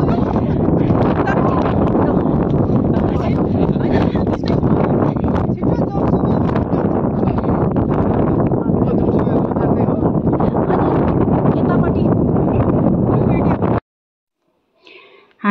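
Strong wind at Jomsom in Mustang roars and buffets the microphone in a loud, continuous rush, cutting off abruptly near the end.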